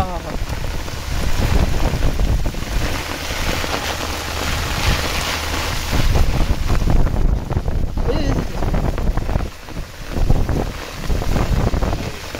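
Storm outdoors with heavy rain pattering on surfaces and gusting wind buffeting the microphone, a loud, continuous roar that swells and eases, with voices faintly mixed in.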